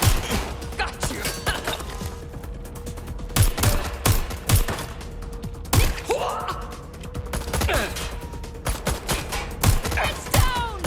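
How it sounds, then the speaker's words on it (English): Sharp gunshots and rapid bursts of automatic fire in the game Watch Dogs: Legion crack out at irregular intervals over a low rumbling background, some shots loud and close, others softer. "Gunfire over here."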